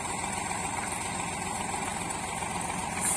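A tractor engine runs steadily at a constant, even drone while driving a shaft that powers a sugarcane crusher, with a slight rise in loudness at the very end.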